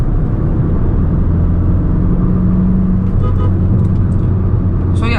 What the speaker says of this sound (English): below 2000 rpm the engine is quite silent, but after 2000 rpm it gets quite vocal